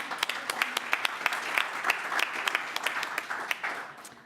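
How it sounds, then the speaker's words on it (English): An audience at an academic lecture on education in the early American republic applauds: dense, sustained clapping from many hands, close and lively, lasting about four seconds without a break. "let's give you all a round of applause"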